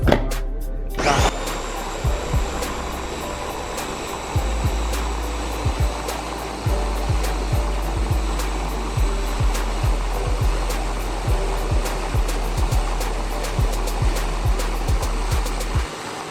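A blender whirs loudly and steadily as it purees a cilantro and garlic mixture, starting with a sharp rise and carrying on with a constant motor roar marked by repeated rhythmic knocks, without any talking.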